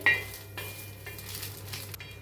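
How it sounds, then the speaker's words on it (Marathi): Green chilies roast in hot oil in a pan, giving a steady soft sizzle with light scraping and stirring clatter from a utensil against the pan, close and continuous without speech. "मिरच्या भाजून घेऊया असंच भाजायचं आहे"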